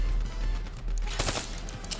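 Gunfire in Call of Duty, a rapid burst of automatic shots close and loud, with sharp cracks clustered near the middle of a short stretch.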